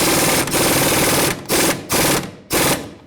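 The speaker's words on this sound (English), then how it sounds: "Now we're gonna tighten it down." Impact wrench tightening a sway bar link nut on a 2008-2012 Jeep Liberty front suspension: three loud, close bursts of rapid hammering rattle separated by short pauses, with no talk.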